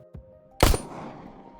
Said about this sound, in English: let's take a look at the anatomy of a gunshot